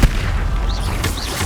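Incendio fire spell cast in the Hogwarts Legacy video game: a sharp burst at the start, then a sustained roaring whoosh with rising and falling swishes, dense and loud throughout.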